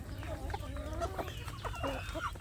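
Free-range village chickens cluck steadily, with a large rooster and laying hens among them. Busy overlapping clucks and calls come from close by, with a low rumble underneath and brief murmurs of talk.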